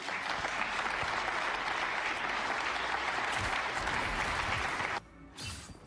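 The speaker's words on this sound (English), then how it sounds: "like they're clapping before he's even done." Dense applause from an audience, loud and steady for about five seconds, then cutting off abruptly into near quiet with a brief rustle.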